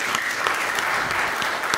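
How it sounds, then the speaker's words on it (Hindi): Audience at a Hindi stand-up comedy show clapping for themselves, dense continuous applause at a moderate level with no talk over it. "आप सब एक बार खुद के लिए तालियां बजा दीजिए।"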